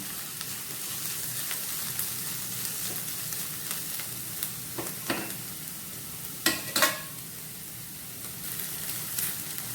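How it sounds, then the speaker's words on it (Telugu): Tomato pieces cook in a pan of AMC cookware for fish curry, giving a soft, steady sizzle and bubbling with a few sharper stirring scrapes near the end. "ఈ టమాటోలు కూడా మగ్గిపోతున్నాయండి."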